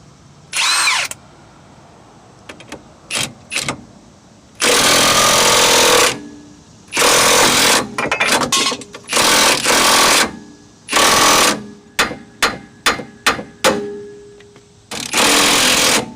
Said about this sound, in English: The lower ball joint gets pressed downward, and we'll be using this cup because it fits the diameter